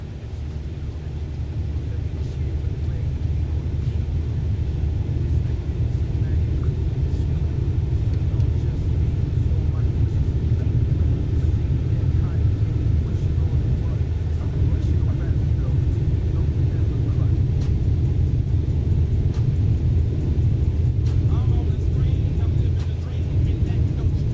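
Airliner engines roar steadily through a flight simulator game takeoff, a loud, continuous low rumble that holds for the whole stretch with no talk over it.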